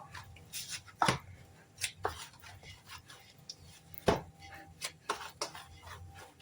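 Hands knead kachori dough for potato kachori in a home kitchen, giving soft irregular slaps and presses, a few louder thumps standing out over quiet rubbing.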